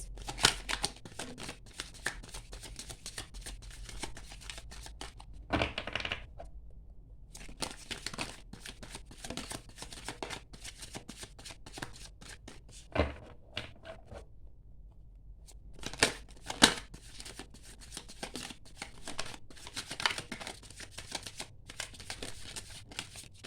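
Tarot cards being shuffled by hand make close, quiet, papery riffling and crackling that runs almost continuously, with two brief pauses between bursts.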